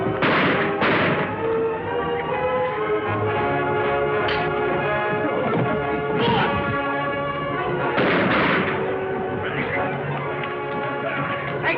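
Gunshots ring out in a Western shootout, several sharp cracks spread unevenly through a dense, old-fashioned soundtrack thick with music and effects.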